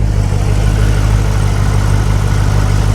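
A supercharged Chevrolet Camaro ZL1 V8, making close to 600 horsepower, idles steadily with a deep, rumbling low-end drone. The sound is close and constant for the full three seconds, and no one speaks.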